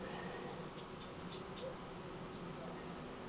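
Honey bees buzz steadily at a hive near a colony with a Buckfast queen, a dense, continuous hum that holds level throughout with no pauses.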